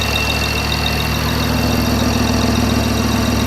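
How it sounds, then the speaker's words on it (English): BMW i8 engine idling after a cold start, its valvetrain giving off a busy clickety-clank: a loud, constant near drone overlaid with rapid, even ticking and clattering that never lets up. "There's a lot of clickety-clankety going on in there"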